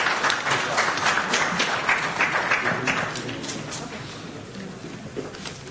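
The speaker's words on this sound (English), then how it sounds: "Let's give him a round of applause." A summit audience applauding, a dense wash of many hands clapping that is loudest at first and then slowly thins and fades toward scattered claps.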